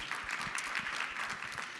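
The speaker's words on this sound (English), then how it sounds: "Yeah, that you can clap for that." An audience at a safe streets summit plenary session applauds, a soft, steady patter of many hands clapping that sounds somewhat distant and fills the short moment without voices.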